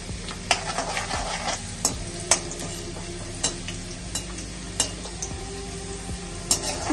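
Chopped garlic and two dried red chillies sizzle softly in a pan for chowmein, a steady hiss broken by sharp, regular clinks and scrapes of a spoon stirring.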